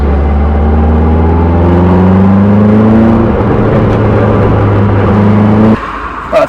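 A Caterham 7 310R with a 1.6 litre Ford Sigma engine being driven, its loud, close engine drone rising steadily in pitch as it pulls through the gears, then dropping off abruptly near the end.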